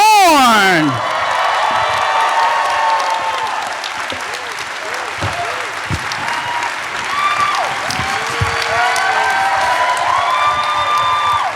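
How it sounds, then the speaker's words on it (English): A large convention crowd cheers and applauds for Michael Dorn, a loud, sustained roar of clapping with whoops and shouts, opening with a sharp rising squeal before settling into continuous cheering. "Clapping your hands for the one, the only. Give it up for Michael Dorn."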